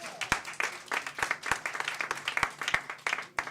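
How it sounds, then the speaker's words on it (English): A small audience at a tribute event claps with a few sharp, distinct hand claps standing out over a looser, thinner patter, fairly close and moderately loud throughout. "Can you give him a round of applause?"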